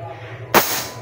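A single sharp air rifle shot, fired from a gun charged from a mother tank and fitted with a silencer, cracks out close and loud as one abrupt burst of air over a low background hum.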